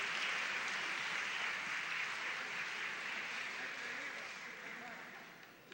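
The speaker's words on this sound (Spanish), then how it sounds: "Entre aplausos lo vamos a recibir." Applause from an audience at a congressional tribute greeting the 1975 Copa América champion national team as they take the stage, a steady broad wash of clapping that holds throughout and fades slightly toward the end.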